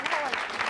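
Dense studio audience applause from a daytime talk show fills the short moment, a steady wash of many hands with a voice faintly mixed in.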